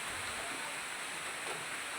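Steady rain falls, a dense even hiss of drops that fills the whole stretch without pause, fairly close and moderate in level, with no voices over it.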